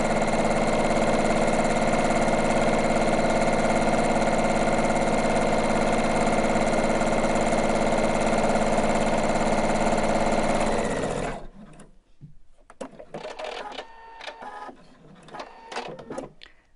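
A sewing machine stitching belt straps runs in a steady, loud motorized whir for about eleven seconds, then stops, leaving faint handling clicks and rustles.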